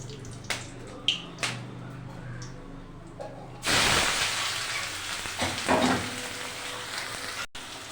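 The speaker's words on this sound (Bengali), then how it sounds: "পেঁয়াজ কুচি দিয়ে দিয়েছি, ভালো করে পেঁয়াজটাকে লাল লাল করে ভেজে নেব।" Chopped onions hit hot mustard oil in a wok and burst into a loud, steady sizzle and crackle that carries on for several seconds, after a few quieter clinks and taps from the pan beforehand.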